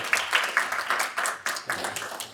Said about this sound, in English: Give yourselves a round of applause, you know what I'm saying, for being here.